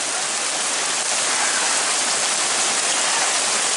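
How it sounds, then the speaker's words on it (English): Steady pouring rain hisses loudly and evenly across a barnyard cage, a dense unbroken downpour with no voices. "she's out there in the pouring down rain enjoying it"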